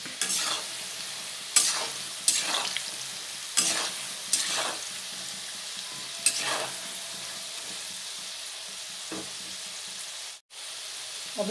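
Potatoes frying in hot oil in a home kitchen pan, a steady close sizzle with several sharp stirring scrapes and clatters spaced through it, no talking.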